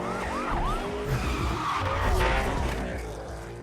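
A car chase in a Need for Speed video game, with tires skidding and squealing, engines roaring and sirens wailing underneath, all loud and continuous with no talking.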